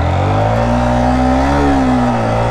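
Yamaha R15 sports bike engine revving loudly and steadily on a homemade offroad dirt track, pitch rising and falling slightly as the throttle is worked, close to the listener with no talk.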